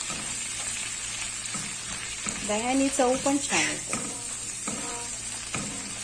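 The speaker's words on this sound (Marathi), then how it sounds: "लाल मिरची पावडर आणि हळद याला पहिल्यांदा तेलात चांगलं शिजू द्यायचं" Continuous sizzling of red chili powder and turmeric frying in oil for a raw banana curry, with stirring noises, while someone talks briefly over it in the middle.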